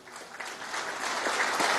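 A large audience at the closing of the 25th Foro de São Paulo in Caracas, Venezuela claps warmly, building into sustained applause that grows slightly louder.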